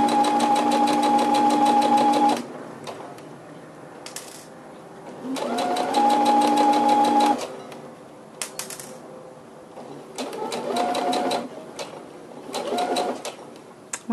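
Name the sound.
sewing machine sewing a seam in fabric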